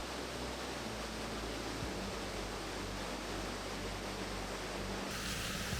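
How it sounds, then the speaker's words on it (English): A roadside waterfall in Galloway, Scotland, a steady dense rushing roar of falling water heard up close, constant and broadband with no voices. "just to this casual waterfall just by the side of the road."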